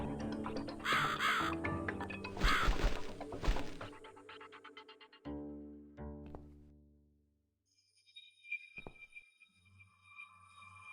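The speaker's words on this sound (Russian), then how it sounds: "Ворона что-то хочет мне сказать." A crow caws repeatedly in the video game The Cat Lady, harsh calls over dark game music and clattering effects, fading into sparse tones and a low thud, with no talking.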